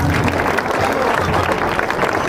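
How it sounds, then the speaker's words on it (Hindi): An audience claps loudly for a speaker at the inauguration ceremony of The Grand Public School, a dense, continuous burst of many hands sustained evenly for a couple of seconds. "सर के लिए जोरदार तालियां।"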